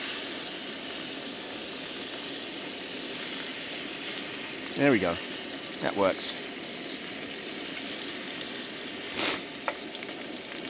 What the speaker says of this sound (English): I could really do with steaming these vegetables in the juice.